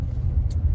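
Truck driving up Pikes Peak with the windows down, giving a brief, steady, close low rumble of engine, road and wind.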